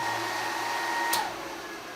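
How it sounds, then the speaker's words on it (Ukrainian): A hair dryer runs continuously off a 24 V inverter and battery setup, a steady, close, unbroken airy roar with a faint tonal whine and one brief click partway through, no voices. "То мені шкода стало фена, котрий півгодини вже маслає без перерви."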